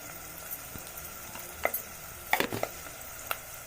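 A tempering of spices with ginger garlic paste sizzling in a pan, a soft steady frying hiss punctuated by a few brief stirring clinks and scrapes, close and fairly quiet with no talk.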